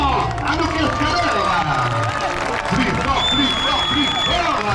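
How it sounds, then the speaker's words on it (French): An outdoor audience at a stunt show applauds and cheers for the stunt performers, a dense continuous wash of clapping and crowd noise with a voice talking over it. "on donne un tonnerre d'applaudissements à nos cascadeurs"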